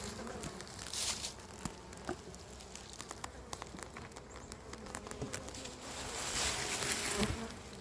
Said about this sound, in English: That was a bee right in front of my lens.